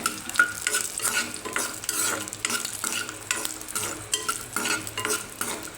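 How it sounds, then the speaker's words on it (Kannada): Peanuts roasting in a dry pan are stirred continuously, making a busy, rattling scrape of nuts sliding against metal with faint sizzling underneath, fairly close and with no voices. "ಶೇಂಗಾ ಎಲ್ಲ ಚೆನ್ನಾಗಿ ಹುರ್ಕೊಂಡಾಗಿದೆ"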